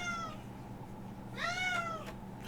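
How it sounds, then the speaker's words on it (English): Domestic cat meowing twice, a short meow followed by a longer rising-falling meow, close and clear indoors over a faint hum. "Apparently my cat wants to speak up."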